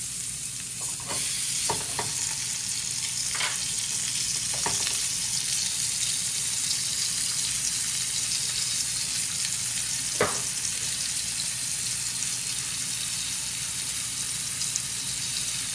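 Pork chops, seasoned with salt and pepper, browning in a hot pan give a steady, loud sizzle throughout, broken by a few sharp clicks and scrapes of a utensil.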